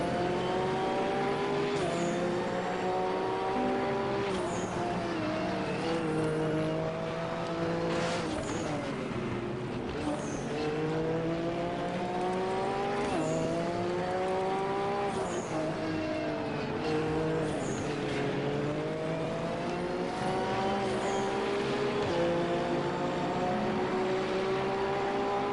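Race cars in the RaceRoom racing game, a Ford Mach-E among the pack, engines revving and shifting steadily with rising and falling pitch, close and loud throughout, occasional tire squeal.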